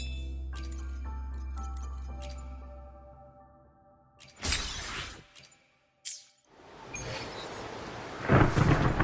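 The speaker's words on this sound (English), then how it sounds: "Encore heard lightning. When there's lightning, it's gonna rain." Thunder crashes and rolls amid steady rain in the video game Wuthering Waves: a calm musical stretch fades into loud, sharp cracks of thunder with a rushing downpour and a final heavy rumble.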